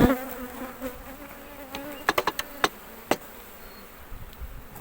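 Honey bees buzzing at a beehive during hive work, a close tonal drone in the opening seconds that fades, followed by scattered sharp taps and knocks of handling.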